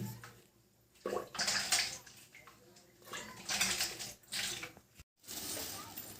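Bitter gourds drop into water inside a pressure cooker, making sloshing splashes and watery bursts in short uneven waves with a few hard knocks between them.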